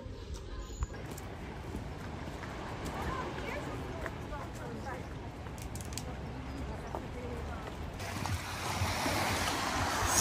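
Mediterranean Sea waves wash against the shore at Taormina, Sicily, a soft, continuous rush of surf with wind noise, growing brighter and louder toward the end.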